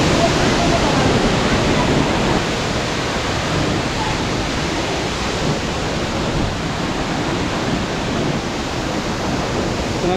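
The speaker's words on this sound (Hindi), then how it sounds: "ये है जी इसका पहला झरना कांगड़ा का, यहाँ तक ये देखिए पूरा झरना" Waterfall on the Madmaheshwar trek in the Himalayas: steady, loud, broadband rushing roar of falling water, constant throughout with no break.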